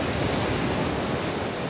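Ocean waves breaking and washing onto the shore at a beach in Ocean Grove, a steady, close, full roar of surf with some wind noise, no voices.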